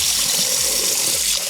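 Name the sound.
washing rice under running tap water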